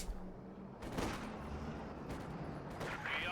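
Gunfire crackles through a Company of Heroes 2 battle between OKW and Soviet forces, with scattered shots and bursts layered over a rumbling backdrop of combat noise.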